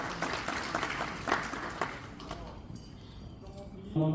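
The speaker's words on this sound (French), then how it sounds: "sur l'applaudissement, s'il vous plaît" Audience applause at a digital asset security conference in Senegal, a dense wash of many hands clapping that stays steady for several seconds, then fades with a brief voice at the end.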